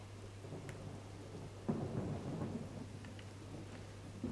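Steady rain pours down in a Halo: Reach battle zone, with a heavy thunderclap rolling in partway through and fading into the downpour, fairly quiet overall with no voices.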